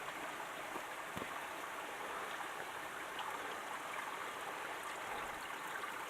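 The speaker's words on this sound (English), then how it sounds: "Big rock, water coming through." Mountain stream water rushing past a big rock on a foggy trail near Mt. Rainier, a steady, dense, broadband flow heard fairly close and continuous with no speech.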